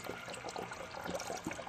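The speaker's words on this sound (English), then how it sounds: "now I'm going to put distilled water into my radiator" Distilled water pours into the radiator of a 2003 Honda Pilot, a soft, steady trickle and gurgle of liquid that runs close and faint without a pause.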